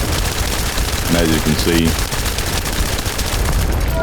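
Sustained rapid gunfire from a Hailey gunner build in The First Descendant, a dense continuous crackle of shots running the whole time at steady loudness, with someone talking briefly over it.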